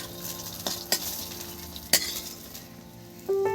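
Peanuts dry-frying in a pan while being stirred, with a soft steady sizzle, a few sharp scraping clinks from a utensil, and a brief hum near the end.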